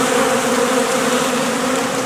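Honeybees buzz at the hive in February, a dense, steady drone of many wings heard close up and without pause, with no voices.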